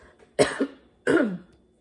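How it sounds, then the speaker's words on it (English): Two short, deliberate fake coughs a moment apart, close and fairly clear, with quiet in between. "That fake cough, so funny."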